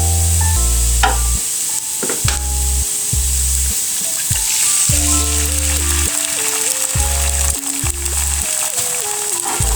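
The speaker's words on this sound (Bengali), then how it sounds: "তার জন্য আমি সবজি কিন্তু ভেজে নিচ্ছি।" Egg and vegetables frying together in a pan for noodles, a steady loud sizzle running throughout, with music playing over it.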